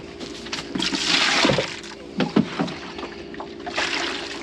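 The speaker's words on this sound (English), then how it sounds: "He's just learning how to drink out of the bucket" Young calves on a farm drinking from a bucket, with close sloshing, slurping splashes and knocks of the bucket coming in uneven bursts.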